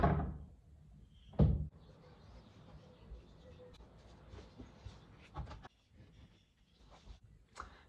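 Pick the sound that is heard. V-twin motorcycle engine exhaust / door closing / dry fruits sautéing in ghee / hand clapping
door closing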